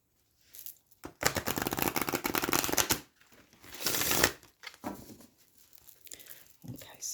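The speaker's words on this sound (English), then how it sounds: "they seem to be shuffling fine." Rapid papery riffling of a new oracle card deck being shuffled in two bursts, with softer handling rustles and taps between them.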